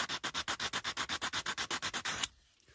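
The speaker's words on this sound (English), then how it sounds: "and just sand them all smooth" A sanding stick is rubbed flat over cut steel hood hinge pins in about sixteen quick, even strokes, close and moderately loud, before stopping abruptly.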